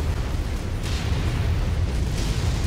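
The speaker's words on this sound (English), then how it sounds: "Oops, I used my heavy rifle." A heavy rifle fires in MechWarrior 5 Mercenaries, with a loud, deep, rumbling boom that blends into a dense, continuous roar lasting the whole short stretch.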